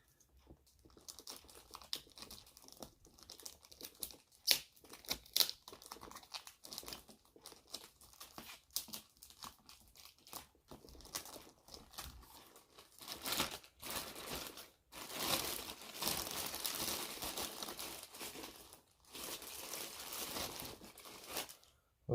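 A boxed G.I. Joe Cobra Baroness Bishoujo statue lifted out of a plastic bag, with crinkling and rustling plastic close by in bursts, growing louder and more continuous toward the end.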